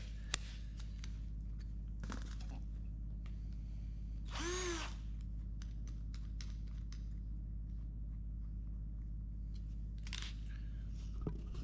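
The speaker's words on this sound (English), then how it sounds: "So I got a couple drill bits out that I'm using for this." A power drill bores holes in an aluminum panel during a race car interior build. Short drill bursts rise and fall over a steady low hum, with a few sharp clicks between them and no talk.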